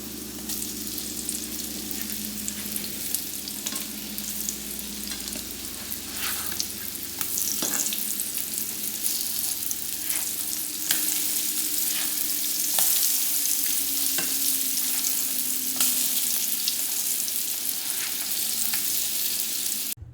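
Potato pancake dough sizzles in a skillet for a long, steady stretch, a dense near hiss of frying broken by scattered crackles and pops, with no voices.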